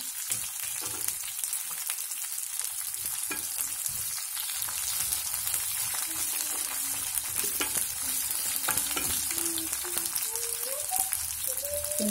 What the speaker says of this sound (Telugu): ఇప్పుడు 2 ఆనియన్స్ ముక్కలు కోసుకున్నాం కదా, అవి వేద్దాం